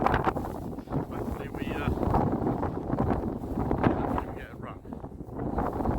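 Strong gale-force wind roars and buffets the microphone beside a fenland drain on a pike fishing trip, a continuous loud gusting rush with someone speaking briefly under it.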